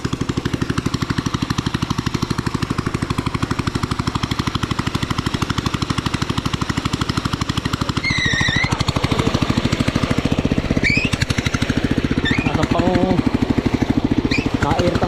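A hand tractor engine runs beside a house, its steady, rapid chugging pulse loud and close throughout, with faint voices or chirps over it in the second half.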